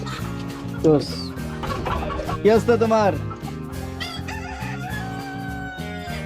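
A rooster crows and chickens cluck close by, with a person talking over the birds.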